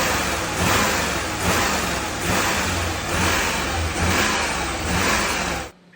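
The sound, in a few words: Bentley Blackpool engine (Bentley-Cosworth) revving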